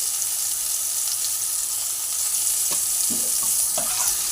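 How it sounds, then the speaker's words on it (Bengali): Tomato paste with a pinch of salt fries in a pan, giving a continuous close sizzle. Toward the end a few soft scrapes and stirs come through it. "দিয়ে ভালো করে নাড়িয়ে চাড়িয়ে নেব।"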